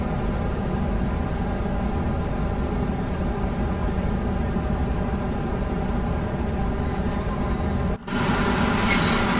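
An Avanti West Coast Class 390 train on the West Coast Main Line in Train Sim World 5 runs with a steady loud rumble of motors and wheels on rails, briefly dipping near the end before carrying on.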